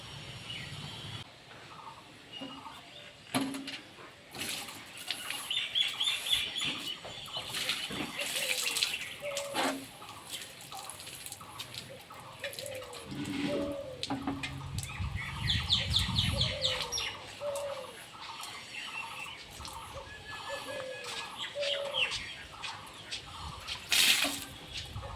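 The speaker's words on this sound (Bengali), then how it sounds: "শাকগুলোকে এখন পরিষ্কার করে ধুয়ে নিয়ে আসবো" A tap runs steadily as red amaranth greens are washed, with splashing swells over the flow and birds chirping repeatedly in the background.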